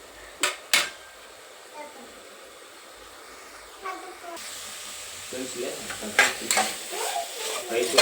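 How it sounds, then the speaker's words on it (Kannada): Masala frying in oil in a home kitchen, a soft steady sizzle with occasional scraping stirs and a few sharp utensil clinks, fairly quiet, with faint background music. "ಎಣ್ಣೆ ಬಿಡೋವರೆಗೂ ಫ್ರೈ ಮಾಡಬೇಕು"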